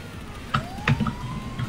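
A broken ambulance siren in the game GTA V lets out a single thin tone that rises slowly and then holds steady, with faint thumps underneath.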